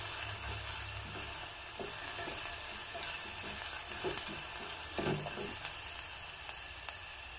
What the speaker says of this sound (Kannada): ಈರುಳ್ಳಿ ಟ್ರಾನ್ಸ್ಪರೆಂಟ್ ಆಗೋವರೆಗೂ ನಾವು ಬಾಡಿಸ್ಕೋಬೇಕು